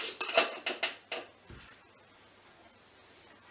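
Flour and dried egg powder tipped into a bowl with a spoon for swede cakes, a quick run of close clinks and taps, then quiet and one more knock at the end.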